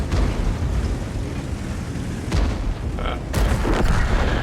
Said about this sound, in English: My teammate exploded, and the other guy took a hit